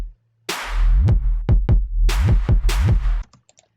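EDM drum pattern of layered punchy kicks with a clap and a trap snare on top, hitting loud and alone in a steady heartbeat-like groove for about three seconds before cutting off.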